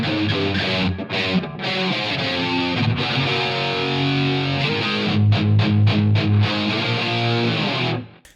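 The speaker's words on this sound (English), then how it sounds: "let's go to distortion." An electric guitar through a distortion patch on a Line 6 Helix plays loud sustained chords and riffs with short choked gaps, ringing heavily for several seconds before cutting off at the end.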